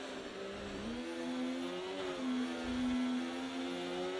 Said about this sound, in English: When will the engine revs pick up for the Haas car?